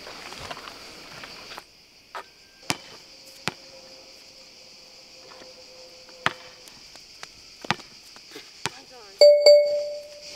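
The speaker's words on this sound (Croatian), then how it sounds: "Stigla mi je poruka." A short, bright electronic ding sounds near the end, ringing briefly after a quiet stretch of scattered clicks and taps.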